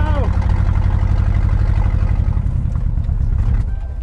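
Ford Crown Victoria V8 engine held at full throttle during a demolition-style race, a loud sustained low roar with a brief rising tone early on, fading and thinning toward the end as power drops.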